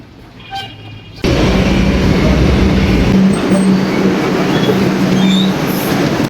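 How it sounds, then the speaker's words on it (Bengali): A Kolkata metro train at Dakshineswar breaks into a loud, sustained rumble after a quieter opening, with a droning tone near the end. "এই যে এই মেট্রোটা করেই দক্ষিণেশ্বর আমরা নামলাম, পৌঁছালাম। এত নয়েজ আসছে এইখান থেকে।"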